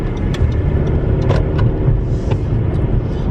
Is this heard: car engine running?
yes